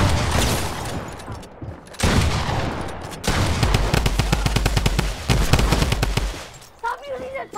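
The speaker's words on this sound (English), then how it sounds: "Stop using the Tommy gun!" Tommy gun firing in the Fortnite video game, loud sustained bursts of rapid automatic fire broken by short pauses, with excited voices talking over the shooting.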